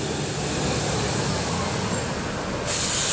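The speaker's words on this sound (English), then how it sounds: "Big truck passing through." A big truck rolls past close by, its broadband rumble and hiss steady throughout, with a sharper high hiss near the end like an air-brake release; no talking.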